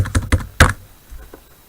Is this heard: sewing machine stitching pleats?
no